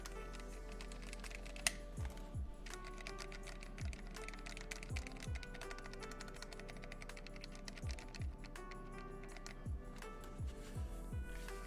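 Someone types on a mechanical keyboard with unlubed switches: faint, quick clicking keystrokes in loose bursts, with a single sharper tap early on and a low steady hum underneath.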